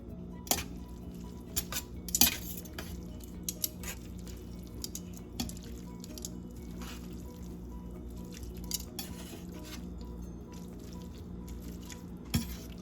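Pasta stirred into a pan of spinach, basil, garlic and tomato: quiet, scattered clinks and soft scraping of a utensil against the pan, with a few sharper taps standing out over a low, steady background.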